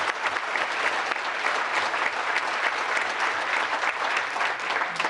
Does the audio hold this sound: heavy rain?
no